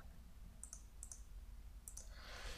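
A computer mouse gives quick paired double-clicks, three sets in close succession, crisp and near against a quiet background, while a software component is selected.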